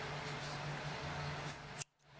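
Scissors snip through yarn once, a short sharp cut after a stretch of soft steady hiss from the room.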